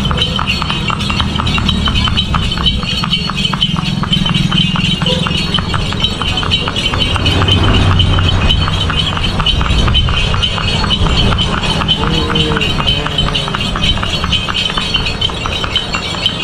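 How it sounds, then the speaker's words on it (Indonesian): A horse pulling a delman cart in Bantaeng, South Sulawesi, clip-clops along in a quick, steady rhythm, with faint rattling and clinking of the cart beneath the continuous hoofbeats. "naik delman istimewa"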